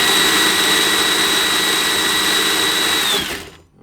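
A hobby-grade RC car's electric motor runs under electronic speed control, giving a loud, steady, high-pitched whine with a constant tone that holds evenly and then winds down abruptly near the end, with no talking over it.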